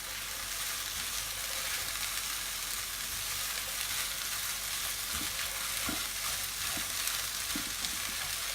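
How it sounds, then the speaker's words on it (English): Garlic and black beans fry in a pan with a steady, close sizzle and crackle, joined late by a few soft stirring knocks, with no talking over it. "I'm going to let the garlic and the black beans just fry off for about 30 seconds"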